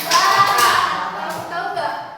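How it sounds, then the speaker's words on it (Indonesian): Classroom clapping game with children tapping shoulders and clapping hands: a few quick claps and taps over voices, close and moderately loud. "Ice breakingnya tepuk pundak, tepuk tangan."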